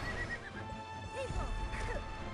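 Horse neighing in the video game Wildshade, with hoofbeats while riding; several whinnies and snorts ring out over a steady clip-clop and game music, loud and close throughout.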